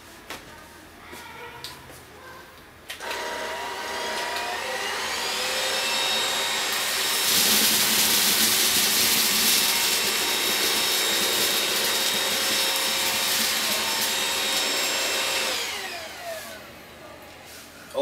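A Dibea C17 2-in-1 cordless stick vacuum cleaner switches on with a whirring motor whine, then rises to a louder, steadier roar and runs continuously before winding down near the end.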